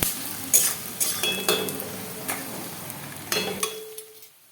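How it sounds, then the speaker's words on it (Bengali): Onions with chopped garlic frying in a pan for a pakal fish oil-jhal, with a gentle sizzle under repeated clinks and scrapes of a spoon stirring against the pan. "রসুন কুচি দিয়ে এটাকে আমি ভালো করে ভেজে নেব একটু নরম করে ভেজে নিতে হবে"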